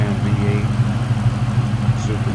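Steady, low, throbbing idle from the supercharged DOHC V8 of a 2003 Ford Mustang SVT Cobra convertible fitted with a cold air intake and aftermarket exhaust, running evenly and close up without throttle changes.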